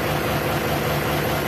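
Truck engine on an Isuzu 10PE1 vehicle running during break-in, a steady loud low rumble with constant idling vibration throughout, close by and with no talking over it.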